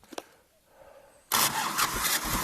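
A tractor engine cranks and fires at once into a loud, steady running roar that holds to the end, after a brief quiet stretch with a couple of faint clicks.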